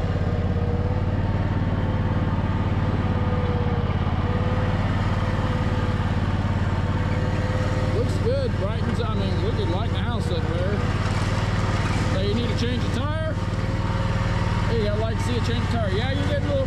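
Riding lawn mower engine running steadily at close range, a continuous low drone throughout with rattling and clatter joining in during the second half while a person talks over it.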